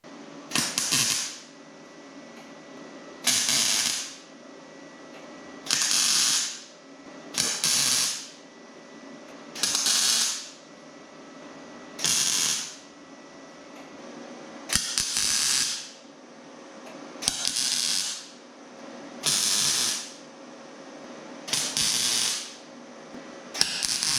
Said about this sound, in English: Now I can start tacking in the strut tower panels.